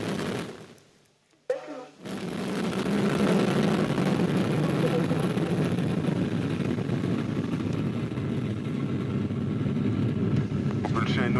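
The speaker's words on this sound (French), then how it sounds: "Allumage P80 et décollage." A Vega rocket's P80 solid motor ignites and lifts off, bursting from near silence into a loud, continuous, crackling roar that holds steady for many seconds, with a voice faintly heard over it.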